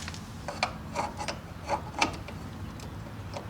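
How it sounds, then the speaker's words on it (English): A tap turns in a radiator mounting hole on an '84 Honda Goldwing, giving a handful of soft, irregular metallic clicks and scrapes over a low background hum, close and quiet, with no voices. "for the radiator, you need to tap out this particular hole to get it"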